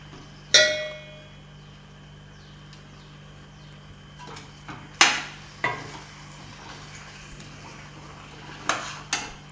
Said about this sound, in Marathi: हे चिकन आपण मसाल्यामध्ये परतवून घेतलं आहे